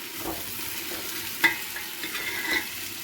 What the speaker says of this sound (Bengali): চালটাকে আগে ভালো করে একটু ভেজে নিই।